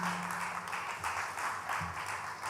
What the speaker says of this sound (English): we'll start off by giving a little round of applause to my fellow CEOs from across the